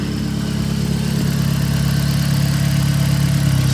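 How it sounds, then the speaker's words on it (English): Newly installed car engine idling in a track car build, a steady low hum with a constant throb, loud and even throughout with no talk. "as you just heard, the engine's running"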